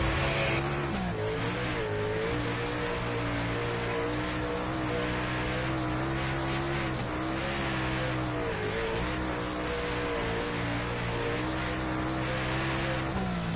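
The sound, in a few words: race car driving laps in sim racing video game on PS5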